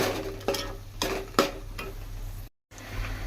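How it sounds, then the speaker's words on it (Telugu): Masala frying in a pan for village-style stuffed brinjal and egg curry, a low sizzle under several sharp scraping stirs of a spoon, close up, with a brief silent gap near the end. "ఈ విధంగా పచ్చి వాసన పోయే వరకు బాగా ఫ్రై చేసుకోవాలా"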